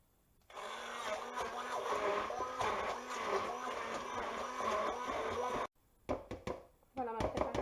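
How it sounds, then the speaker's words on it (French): A blender whirs loudly for about five seconds as it mixes a pizza topping seasoned with salt and pepper. It stops abruptly, then gives a few short bursts of pulsing and knocking. "Et je vais mixer le tout."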